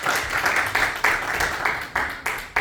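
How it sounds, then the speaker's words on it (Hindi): A church congregation at a Pakistani Punjabi-Urdu service in San Jose applauds in a dense, steady wash of clapping that pulses slightly as hands come together in loose rhythm. "जोरदार तालियां बजा लीजिए अपने अपने लिए"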